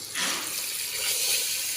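Water gushes and splashes steadily into a cooking pot for a couple of seconds, a close, bright rushing pour with no voices.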